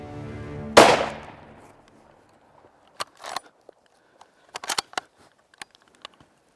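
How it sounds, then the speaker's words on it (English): A single loud rifle gunshot cracks nearby while hunting in Missouri timber, its echo trailing off, followed by scattered faint rustles and footstep-like taps in the woods. "Got a good trigger pull, squeezed the trigger"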